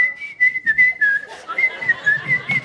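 A two-note wolf whistle, the rising-then-falling tune whistled at someone passing by, sounds clearly and close, repeated twice with a short gap and nobody talking.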